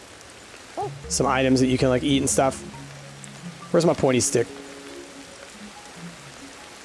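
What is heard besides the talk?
rain in video game Ancestors: The Humankind Odyssey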